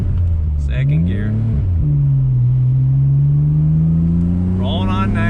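A 1993 Nissan Skyline GTR R32 V Spec engine pulls under acceleration, a strong steady drone rising in pitch, heard from inside the car with someone talking over it.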